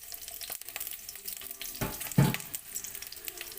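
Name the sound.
onion, green chili and whole spices frying in pan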